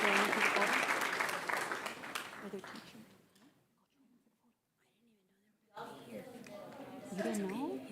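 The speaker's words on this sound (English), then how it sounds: "Let's congratulate these talented students with a big round of applause." Applause at a school district board meeting honoring talented students, a loud round of clapping for about three seconds that fades to near silence before voices return.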